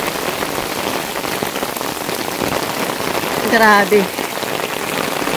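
Heavy rain pours onto a flooded street in Canyamel, Mallorca, a dense, steady hiss that runs without a break, and one voice briefly exclaims partway through.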